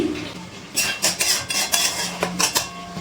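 Chicken coated in sour yogurt is stirred in a cooking pot on a gas stove for chicken masala, giving a series of close, uneven scraping and clinking spoon strokes that arrive in quick bursts, with no talking.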